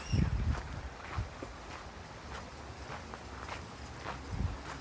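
Soft footsteps crunch at a steady walking pace outdoors, fairly close, with a faint breezy background and no talking.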